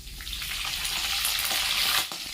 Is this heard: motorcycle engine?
no